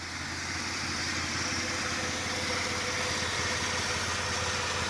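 A 1990 VN Commodore Executive sedan idles steadily with a swapped-in VS Ecotec V6, its low even rumble and faint vibration running close and unbroken throughout, with no voices.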